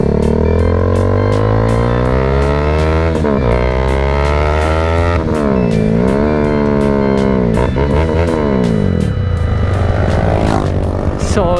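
A Husqvarna Vitpilen 401 motorcycle fitted with a Termignon exhaust revs hard and close, its engine note climbing and falling in repeated throttle blips over a steady idle.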